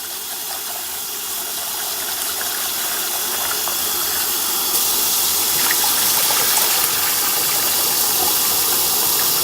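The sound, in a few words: washing rice in water a third time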